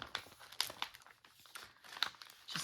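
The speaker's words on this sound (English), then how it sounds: "I have some plastic bags." Plastic bags crinkle and rustle in bursts as they are handled up close, a busy irregular crackling with no voices.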